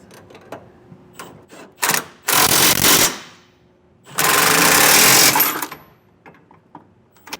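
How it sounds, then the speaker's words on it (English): A ratchet wrench and 24mm socket tighten gooseneck hitch hardware under a truck bed, giving short rapid ratcheting bursts and two long loud buzzing runs, close up with no talk. "Now we're going to take a 24mm wrench and socket and go around and tighten all of the rest of our hardware underneath."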